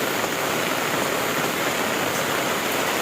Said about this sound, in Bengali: মুসুলধারে বৃষ্টি হচ্ছে সেম এইভাবেই